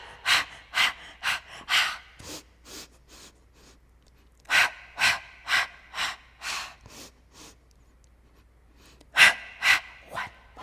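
Deep, forceful breaths during a mat Pilates flow, repeated in quick rhythmic bursts of sharp exhales with pauses between sets, close and fairly loud with no talking.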